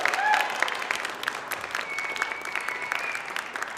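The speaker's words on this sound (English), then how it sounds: "let's give them another round of applause" A campus crowd applauds candidates in a meme competition event, with steady many-handed clapping, some faint whoops or whistles, and a few sharp nearby claps over the roar.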